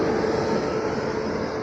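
Kondaveedu Express hauled by an electric locomotive pulling into platform 2 of a station, a steady loud rumble of rolling wheels and carriages filling the short stretch without pause.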